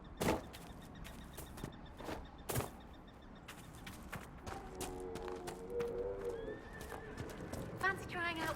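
A purebred chestnut Ferelden Forder horse in Dragon Age: Inquisition clops its hooves, snorts and gives a whinny, with scattered hoof impacts early and the neighing rising toward the end over a busy outdoor background.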